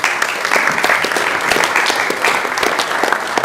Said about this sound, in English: I've never gotten applause so early in my speech